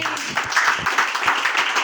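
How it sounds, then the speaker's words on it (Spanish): A church congregation breaks into applause after a pastor's prayer, mixing claps with voices raised in praise for a couple of seconds. "Denle un aplauso al Señor"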